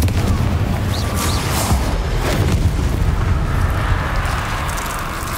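A fiery Confringo spell blast in Hogwarts Legacy, a steady, dense rumbling boom with crackling bursts that stays loud throughout amid busy combat noise.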